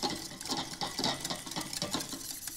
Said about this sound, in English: Resorted to the whisk now.